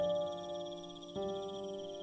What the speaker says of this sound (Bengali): ঝিঝির ডাক